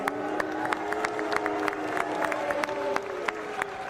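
A crowd at a boxing launch press conference cheers and shouts while scattered claps ring out, a busy, steady roar of voices with sharp hand-clap bursts throughout.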